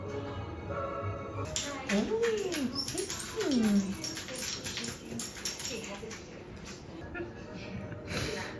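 A dog whimpers and whines in short high-pitched bursts amid excited talking and background noise.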